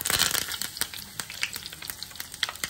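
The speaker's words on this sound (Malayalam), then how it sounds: "വെളിച്ചെണ്ണയിലേക്ക് നമ്മളെ കടുക് ഇട്ട് കൊടുക്കാം" Mustard seeds, fenugreek and curry leaves sizzle and crackle in hot coconut oil for a sambar tempering, a steady close fry with sharp popping bursts throughout, no voices.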